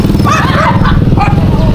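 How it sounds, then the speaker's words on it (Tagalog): An escaped Rottweiler barking outdoors, several loud close woofs and yips in quick succession over a low engine-like drone. "Hala, nakatakas yung aso. Yung Rottweiler."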